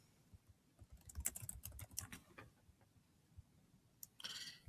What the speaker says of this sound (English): So the first thing I'm going to do is write text